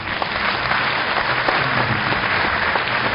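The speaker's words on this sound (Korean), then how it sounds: "학과 교수님들을 뜨거운 박수로 맞이해 주시기 바랍니다" At a university entrance ceremony and orientation, the audience welcomes the department professors with warm applause. The clapping is steady, continuous and fairly close, with no voices over it.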